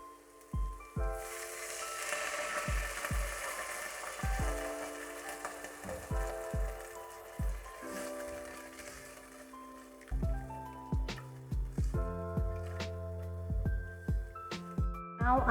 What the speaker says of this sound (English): Now I'm going to add a water.